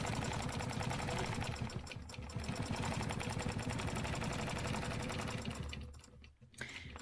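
A sewing machine runs steadily, stitching a seam with a fast continuous mechanical rattle for about six seconds, then slows and briefly stops near the end before starting again; no one speaks.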